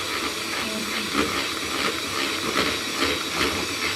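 Egg whites for meringues are whisked steadily in a copper bowl, a continuous hissy, scraping wash with faint rhythmic swells, close and alone without talk.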